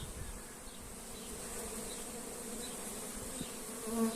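Honey bees hum and buzz steadily around an open hive during queen rearing, a constant close drone that swells slightly at the end.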